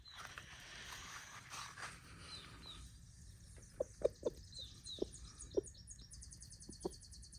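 A rooster gives a series of short, faint clucks, spaced irregularly over a quiet outdoor background with light mechanical noise.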